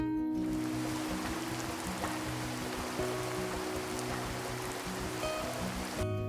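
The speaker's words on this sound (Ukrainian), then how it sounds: "Давайте послухаємо, як звучить дощик." Steady rain pours down in a dense, continuous hiss with a low rumbling undertone, unbroken for several seconds.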